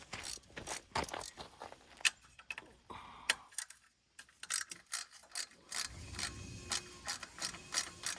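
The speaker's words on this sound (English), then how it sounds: "start your installation by removing the stock skid plate" A hand ratchet works on the stock skid plate of a Yamaha TW200 motorcycle, giving bursts of rapid close clicking with short pauses between strokes and a brief quiet gap in the middle.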